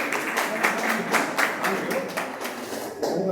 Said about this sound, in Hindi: ताली बजाइए सभी लोग।